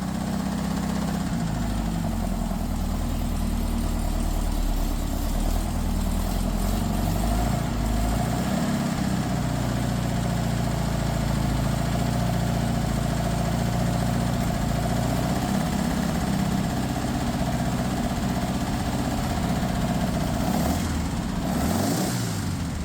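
A 60-year-old Porsche 912 engine, cold and just started after a rebuild with a slight exhaust leak, idles loudly and unevenly close by, its pitch wavering and dipping throughout, then revving briefly near the end.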